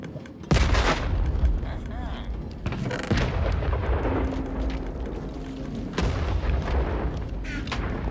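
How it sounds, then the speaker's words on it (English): Cannons fire at a hostile in a Minecraft game, with heavy booms landing at irregular intervals amid a rumbling backdrop and a steady tone running underneath. "It seems that outside the cannons are engaging some hostile"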